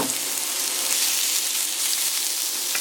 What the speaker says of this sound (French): On va la laisser légèrement chauffer et on dispose donc par-dessus les oignons.